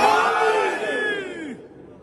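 A crowd chanting the Nara-e-Haidari slogan at a Shia religious gathering, a loud, sustained surge of many voices that swells and then trails off over about two seconds.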